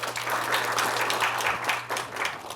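Audience applause at a Seoul city council health and welfare committee forum on childcare and kindergarten integration, a dense steady patter of many hands clapping throughout with a low hum beneath.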